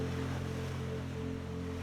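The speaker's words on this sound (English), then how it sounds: "just the sound of the sea breeze, seagulls, and the gentle rhythm of waves" Gentle sea waves wash steadily at Cayo Sombrero beach in Venezuela, a low continuous rush of surf with a faint wind-like hiss, brief and unbroken, with no voices.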